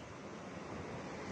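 Ocean waves roll in at a surf beach on Lombok island, a steady broad wash of surf mixed with wind rumble on the microphone, continuous and fairly distant with no voices.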